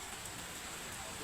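Steady rain falling outside, a dense even hiss that fills the short moment without any break.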